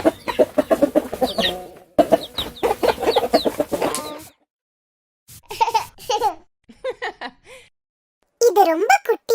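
A mother hen clucks among her five chicks, with chirpy, voice-like bursts in several separate phrases and a few silent gaps between them, close and clear.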